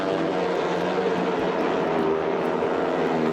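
Motorbikes ride round a wooden well of death at a circus in Lahore's Iqbal Park, making a continuous, loud, droning engine roar that holds steady without a break.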